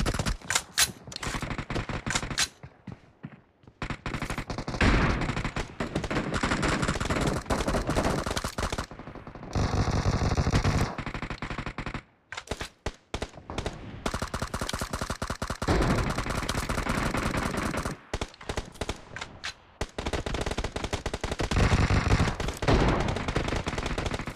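Rapid automatic gunfire from the mobile game BGMI during an 8-versus-8 team deathmatch on the Sanhok map, loud bursts and dense volleys nearly continuous with brief gaps, close and dominant throughout.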